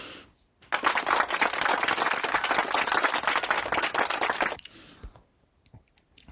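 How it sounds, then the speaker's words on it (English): Burst of added clapping sound effect, a dense spell of claps lasting about four seconds that starts and stops abruptly, fairly soft overall. "Add claps in the background and cheers."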